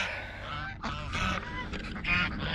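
Ducks or geese being fed outdoors give a burst of loud, overlapping honks and quacks that keep going close by throughout, with no talking.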